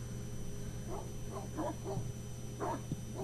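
Dogs bark in the background of a phone call: a quick run of short, yapping barks that sound somewhat distant under a steady line hum.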